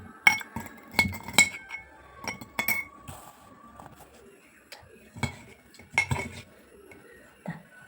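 A small metal spoon clinking against a bowl while scooping curd, a series of sharp bright taps and scrapes in irregular bursts, close and clear against a quiet background.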